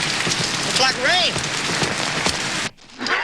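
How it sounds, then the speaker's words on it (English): Steady rain falls around a railyard factory with tracks on both sides, a broad continuous hiss that cuts out abruptly near the end before resuming faintly, with a brief whistling tone partway through. "Looks like rain."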